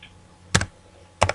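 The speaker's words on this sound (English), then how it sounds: "I want you to type in that box." Two quick pairs of computer keyboard key taps, close and crisp, entering numbers into a box, with a short pause between them and no talking.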